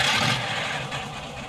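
An early Ford flathead engine idles with a steady, low rumble and a broad hissing wash over it, close and continuous for a moment without pauses.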